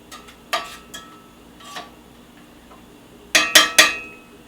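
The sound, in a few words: stirring shrimp scampi in a pan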